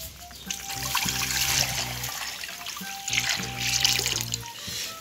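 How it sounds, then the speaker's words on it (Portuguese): Water trickling and splashing as it is poured into a homemade mini garden fountain, a steady continuous flow with surges, fairly close and alone without talk. "e vamos colocar água dentro"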